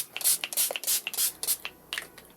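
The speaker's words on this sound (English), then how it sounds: "It's CBD spray." CBD spray misted from a small bottle onto a face during a makeup routine, a quick run of short close hissing spritzes, about seven or eight puffs in uneven rhythm, with faint handling noise between them.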